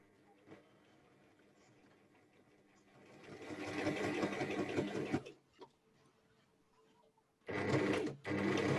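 A sewing machine stitches kimono fabric, running in a steady whirring burst for a couple of seconds, then pausing and starting again for a short second run, close and fairly quiet.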